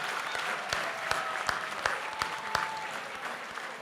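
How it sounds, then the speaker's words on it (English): An awards-night audience applauds a reggae singer at the Reggae Culture Salute, dense clapping from a sizeable crowd with a few louder individual claps punching through, plus a faint tone drifting in the background. "please give him another round of applause"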